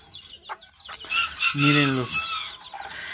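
A bearded short-legged hen and her chicks cluck close by, with a short burst of louder, tonal hen calls in the middle and fainter peeps around it, and a person speaks briefly.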